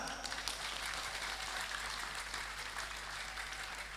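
Steady applause from a crowd at a political rally in Metro, Lampung, dense clapping sustained throughout at a moderate distance with no break.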